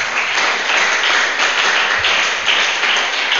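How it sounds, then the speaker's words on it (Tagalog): A crowd claps steadily for several seconds, a dense, even wash of applause with no voices on top. "Palakpak sa Panginoon."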